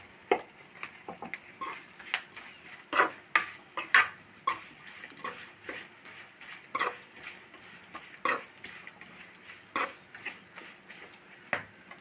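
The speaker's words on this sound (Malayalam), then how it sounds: "ഒരു സ്പൂൺ മല്ലിപ്പൊടി മുക്കാൽ സ്പൂൺ ഗരം മസാല എല്ലാം കൂടി മിക്സാക്കി കൊടുക്കാം" Coriander powder and garam masala stirred into a curry in a cooking pot, with repeated sharp scrapes and clinks of a spoon against the metal over a soft sizzle.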